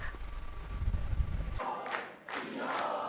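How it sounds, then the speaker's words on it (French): A crowd of supporters cheers Danish prime minister Mette Frederiksen after the legislative elections, a loud dense roar that cuts off abruptly, then returns in fainter swelling waves. "C'est sous les acclamations que Mette Frederiksen retrouve ses partisans."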